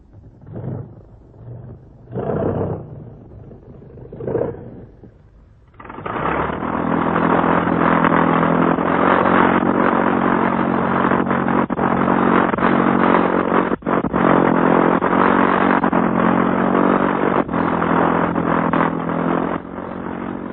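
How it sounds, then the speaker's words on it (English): The twin 750-horsepower Isotta Fraschini engines of a flying boat aircraft drone steadily and loudly after a few short bursts, a continuous throbbing roar that holds to the end. "These airplanes were powered by two Isetto Fraschini engines of 750 horsepower each"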